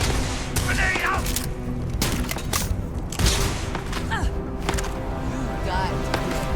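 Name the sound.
grenade explosion and gunfire in video game Starfield: Shattered Space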